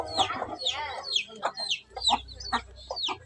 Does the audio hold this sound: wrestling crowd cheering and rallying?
no